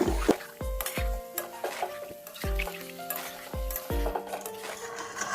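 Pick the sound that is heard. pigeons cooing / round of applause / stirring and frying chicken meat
stirring and frying chicken meat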